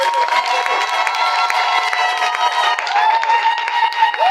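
A wedding congregation in church bursts into sustained cheering and clapping, a dense, loud crowd sound of many hands and raised voices keeping up steadily throughout.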